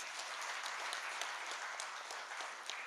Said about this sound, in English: Please give him a big clap for this.